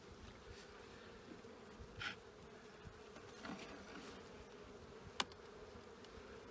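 Honey bees buzzing around a hive in spring during syrup feeding, a steady soft hum with individual bees passing close to the microphone now and then.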